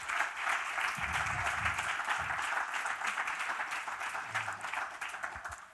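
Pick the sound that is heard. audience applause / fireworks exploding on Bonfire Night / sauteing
audience applause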